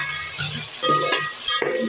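Spices and onions fry and brown in a pan for potato tahri, giving a soft sizzle under scattered clinks and scrapes of a spoon stirring against the pan.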